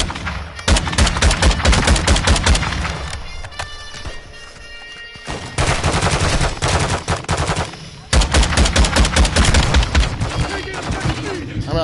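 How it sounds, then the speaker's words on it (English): Enemy gunfire in Modern Warfare Warzone 2.0: loud rapid automatic bursts in several rattling volleys with short gaps, close and dominant. "Taking enemy fire!"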